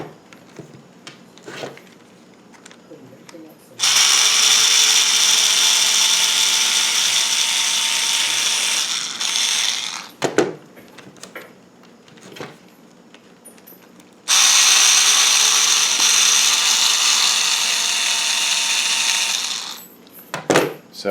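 A power tool drives screws into the drive shaft of a ZD Racing DBX 10 RC car in two long, loud whirring bursts separated by a pause with light clicks and handling noises.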